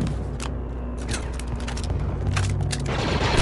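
Dense, continuous gunfire from a squad-based military shooter video game, with rapid overlapping shots and booms filling the mix at steady high loudness.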